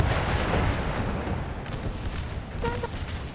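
Cannons firing canister shot in a Napoleon Total War American Civil War battle, a dense rumbling roar of blasts with a few sharper cracks near the end, loud and sustained.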